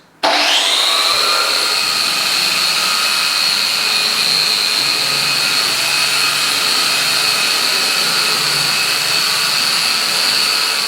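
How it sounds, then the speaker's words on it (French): A drywall sander spins up quickly and runs at a steady, loud whine with a rough grinding hiss underneath, continuous throughout, sanding plasterboard joints. "On lance tout d'abord la tête et ensuite on ponce."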